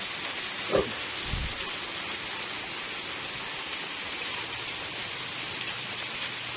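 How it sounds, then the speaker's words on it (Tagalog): Steady rain falls throughout, a continuous even hiss with a single brief thump near the start and no voices. "sige, balik-balik yung ulan niya."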